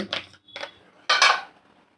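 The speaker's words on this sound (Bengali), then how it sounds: "দেখো ঢাকাটা আমি তুলে নিলাম" A metal lid lifted off a cooking pot after simmering potatoes: two light clinks of metal on metal followed by a louder, brighter clatter, close up, with no speech.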